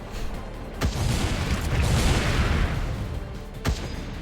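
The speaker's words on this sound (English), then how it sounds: "Fire the missile!" A missile blast in the game Wall World, a dense roaring rumble that swells and stays loud for a few seconds, framed by two sharp thuds near the start and end.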